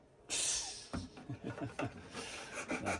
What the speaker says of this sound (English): I'm gonna take the file, kind of work these angles back a little bit